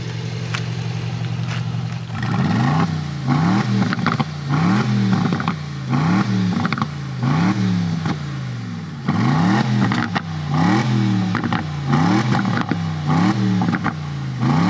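Aston Martin Vantage sports car engine revs loudly and close, a repeated series of sharp blips rising and falling in quick succession, with crackling exhaust pops between the revs.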